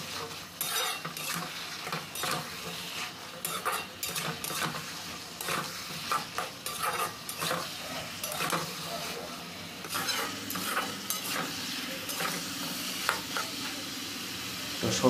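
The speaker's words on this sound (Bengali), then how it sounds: "তো এইভাবে নাড়াচাড়া করে পটল আলুটা ভালো করে কষে নিতে হবে।" Pointed gourd and potatoes stir-fried in a pan make a long stretch of continuous sizzling, with frequent rhythmic scrapes and clatter of the spatula up close.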